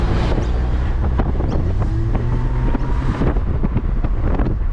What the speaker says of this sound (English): You can hear that supercharger, you can hear the 4-cylinder, you can hear the exhaust